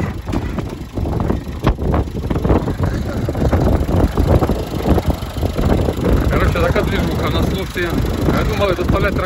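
The engine of a Claas Challenger 55 tractor runs up close, a loud, continuous low rumble mixed with wind buffeting on the microphone, while voices speak nearby.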